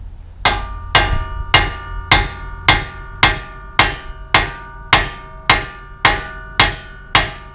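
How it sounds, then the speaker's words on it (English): A hammer strikes a Jeep Wrangler tie rod to break it loose, about a dozen evenly spaced, loud, ringing metallic blows in a steady rhythm, close by. "You're not supposed to really tap down on that to get it off"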